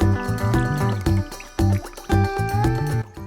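Water is poured over fenugreek seed, hibiscus petals and rosemary leaves in a pot, in several close, loud, gurgling pours separated by short pauses.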